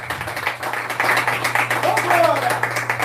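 Audience clapping at a live teaching session broadcast from a rehabilitation clinic, a steady patter of applause over a low hum, with voices mixed in.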